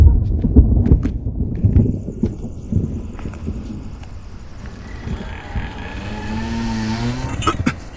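A car in a Hindi-dubbed action film drives fast, its engine rumbling with loud thumps before tires squeal in a long wavering screech that grows near the end.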